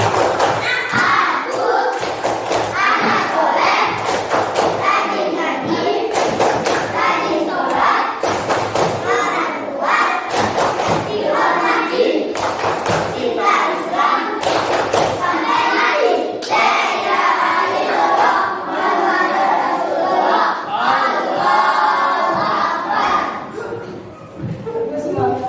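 A classroom of pupils in an Islamic religious education lesson in Indonesia performs a rhythmic spirit clap, with sharp, evenly spaced hand claps and chanting voices running together almost nonstop.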